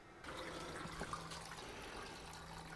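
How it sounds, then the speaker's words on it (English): Water runs steadily from open motorhome taps after storage, a faint continuous hiss and trickle at low level with no voices. "make sure that all the water comes out of the taps"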